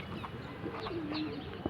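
A faint, low pigeon coo rises and holds for about a second on a quiet street, with a few soft background noises around it.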